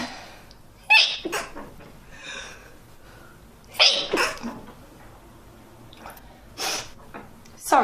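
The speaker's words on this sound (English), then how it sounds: "Oh my god, if I keep sneezing, this is gonna be rough." A woman with allergies sneezes repeatedly indoors, several sharp close bursts spaced a few seconds apart with quiet breathing between.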